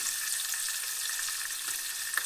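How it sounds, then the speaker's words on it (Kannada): Ginger garlic paste fries in oil for tomato gojju, making a steady soft sizzle with a couple of faint stirring clicks near the end. "ಸೊ ಇವಾಗ ಇದಕ್ಕೆ ಶುಂಠಿ ಬೆಳ್ಳುಳ್ಳಿ ಪೇಸ್ಟ್ ಹಾಕ್ತಿದ್ದೀನಿ"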